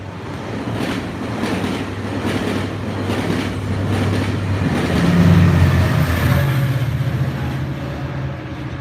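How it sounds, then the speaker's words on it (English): A fast train rushing past a rail tower at Santa Clara, a loud steady rumble with clattering wheels building and holding throughout, with no talking. "Oh, here comes the train. This one's flying."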